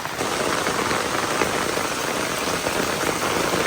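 Steady rain falling hard on a surface, a dense continuous patter close by, with no voices.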